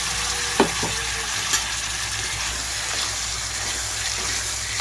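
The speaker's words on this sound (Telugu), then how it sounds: "ఇప్పుడు క్లీన్ చేసి పెట్టుకున్న చికెన్ అంతా ఇందులోకి వేసేసుకుంటున్నాను." Cleaned chicken pieces for a dhaba-style spinach chicken curry sizzle steadily and loudly in a hot pan, with a couple of brief clinks near the start.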